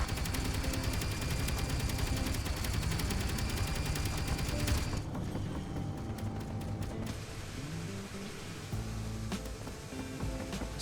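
Spaceship guns strafing in Space Engineers, a dense, continuous rattle of rapid fire that stays loud throughout, dipping briefly midway before the burst resumes over a mechanical clatter.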